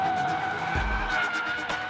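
A Hyundai Genesis Coupe slides sideways on a racing track with traction and stability control off, its tires squealing in a sustained, loud skid over engine noise, with a low thump midway.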